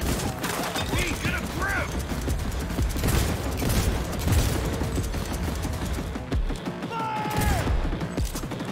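Sustained gunfire in Cyberpunk 2077 with bullets ricocheting: rapid, loud bursts of shots packed close together with metallic pings and impacts, steady for several seconds with brief lulls.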